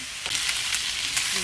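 Chicken pieces browning in a pan for Filipino afritada give a close, steady sizzle and crackle of frying fat, with brief spatters popping over the constant hiss.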